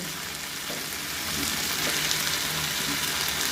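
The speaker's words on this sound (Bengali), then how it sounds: "ফুলকপিটা দিয়েও কষিয়ে নেব।" Cauliflower florets sauté in hot oil in a pan for a potato, cauliflower and egg curry, giving a dense, steady sizzle and crackle that swells slightly partway through, close up and without voices.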